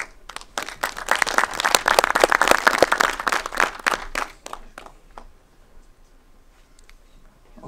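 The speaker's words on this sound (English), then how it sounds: "So a big round of applause for Jan." Brief applause from an audience welcoming a speaker at a technical talk, a burst of hand clapping, loud and dense for about four seconds, then thinning out into a few scattered claps and quiet.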